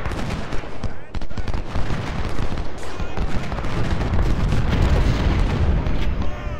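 Cannon and musket fire in Ultimate General: Civil War, a loud, continuous battle din of booms and crackling volleys filling the whole stretch.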